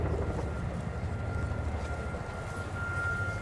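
Royal Air Force Chinook HC.6A twin-rotor helicopter in a flying display turn, a steady low rumbling rotor drone with continuous throb, distant and even throughout, no voices.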